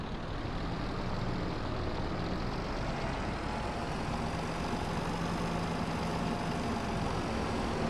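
A tractor engine in the video game Farming Simulator 22 idles steadily with a low, even rumble that holds constant throughout, with no voices.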